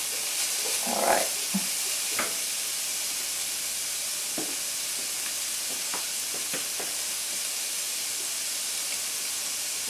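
Chicken and vegetables stir-frying in a hot pan, a continuous bright sizzle and hiss with a few scraping clicks from stirring, close and steady, no talk.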